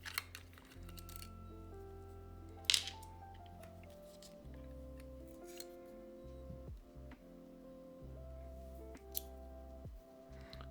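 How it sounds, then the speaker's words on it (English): Screws come out of a Shure MV7 microphone during disassembly, a faint sequence of small ticks and clicks with one sharper snap, heard close and quiet against a steady background hum. "I'll start by removing top 2 screws, and then we can move on to removing the bottom one."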